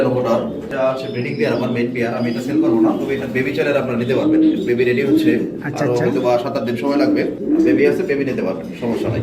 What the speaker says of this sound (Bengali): খুব জোস একটা কবুতর